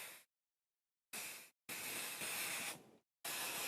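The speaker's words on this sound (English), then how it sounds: "Just a nice spray from a distance" Aerosol spray paint hisses from a distance onto leather while chaps are being made, in three or four steady bursts of about a second each, separated by silent gaps.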